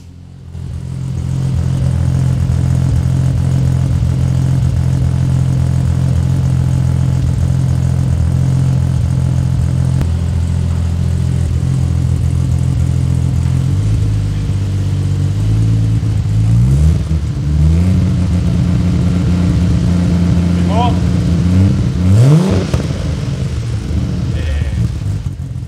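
A Holden Barra engine with a 3.5-inch exhaust idles with a deep, rumbling exhaust, then revs up a few times in sharp bursts before settling back, loud and close.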